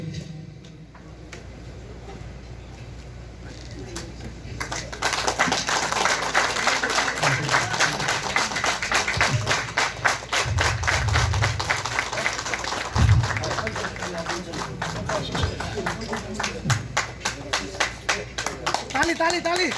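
An audience claps at a felicitation ceremony. The applause swells from about five seconds into a dense, steady patter of many hands that carries through to the end, with voices underneath.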